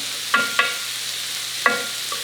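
Beef frying in melted butter over medium-high heat, a steady close sizzle with a few light stirring clicks of a utensil against the pan.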